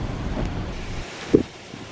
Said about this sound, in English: It's normal wind, so there's no gust there.